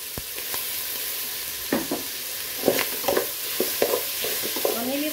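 Sliced shiitake mushroom caps sizzle in a hot pan while a utensil stirs them, with steady frying hiss broken by scattered scraping clicks and knocks, close up and with no voices.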